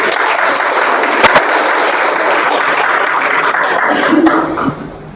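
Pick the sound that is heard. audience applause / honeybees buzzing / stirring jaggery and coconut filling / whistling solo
audience applause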